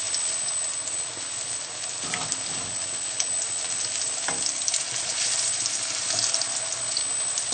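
Spicy salmon fish cakes sizzle steadily in a frying pan, loud and close, with a few scrapes and light taps as they are turned over.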